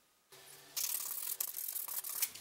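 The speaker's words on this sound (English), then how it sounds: "I still had to do a little bit of sanding" Close-up scratchy rubbing of sandpaper on a thin surface, starting faintly then growing louder in quick uneven strokes.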